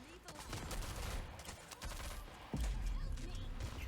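Bursts of rapid automatic gunfire and shots in the online shooter Rogue Company, dense and loud, with a player's voice talking over the firefight.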